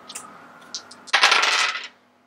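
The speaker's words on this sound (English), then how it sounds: "And then you have to roll the dice to move him." Dice rolled during a home game of the Istanbul board game: a few light taps, then a close, loud clattering rattle for about a second before it settles into quiet.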